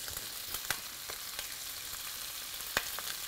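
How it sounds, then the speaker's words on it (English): Italian sausage pieces browning in a pan give a soft, steady sizzle, with occasional faint clicks as they are moved about. "I want to make sure that every piece of sausage is browned a little bit"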